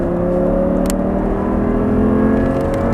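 Loud, close engine drone of an Audi R8 sports car pulling hard and building speed on a track, a steady mechanical roar with a brief clatter partway through.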